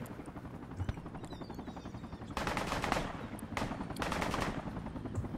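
Rapid automatic gunfire crackles in bursts during a Project Reality military shooter match, with continuous rattling shots, heavier volleys midway, and a low rumble of vehicles or aircraft underneath.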